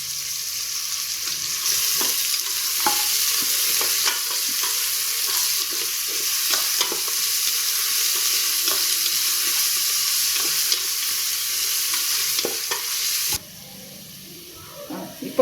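Onion and tomato masala for a Tamil Nadu style mushroom biryani frying in a pan, with a steady loud sizzle and repeated scraping stirs throughout, dropping to a quieter hiss near the end.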